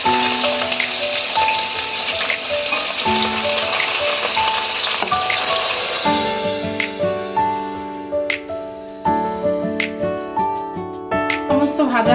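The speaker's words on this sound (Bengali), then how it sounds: "তেল আমাদের গরম হয়ে গেছে এবার একে একে মাছগুলো আমরা ভেজে নেব" Katla fish pieces drop one by one into hot white oil in a pan, bursting into a loud, close, crackling sizzle that swells after each addition, with a spoken voice over the frying.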